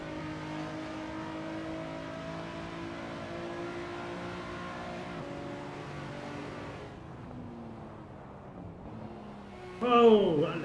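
Nissan R34 Skyline race car engine in the Assetto Corsa racing game at Mugello, revving hard with a steady rising tone for most of the clip, then easing off before a brief loud burst near the end.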